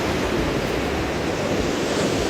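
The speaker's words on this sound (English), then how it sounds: "but today's waves are wild" Wild ocean surf breaks on the shore at Puerto Escondido, Mexico, a dense, loud, continuous roar of crashing waves close by with wind noise over it and no voices.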